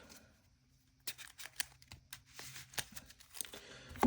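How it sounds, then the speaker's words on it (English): Marvel Champions cards are shuffled back into a deck at a table, giving quiet riffling and slapping bursts of card noise, close and soft, with no talking. "Shuffle the resources back into my deck."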